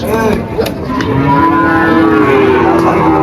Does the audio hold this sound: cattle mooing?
yes